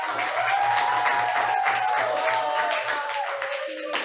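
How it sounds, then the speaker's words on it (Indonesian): A classroom full of students applauds a student group with dense, steady clapping that holds for about four seconds, with voices mixed into the clatter. "Beri tepuk tangan lagi terakhir."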